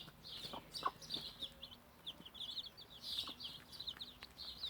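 A broody hen clucks in short, repeated bursts while higher chirps of newly hatched chicks keep up around it, moderately close and fairly quiet.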